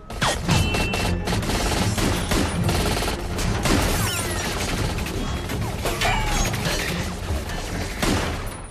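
Rapid automatic gunfire rips through shattering glass in a dense, continuous barrage during an Iron Man 3 action scene, loud and close with crashing debris and metallic clatter throughout.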